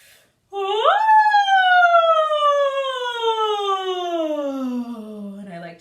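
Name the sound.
voice imitating a siren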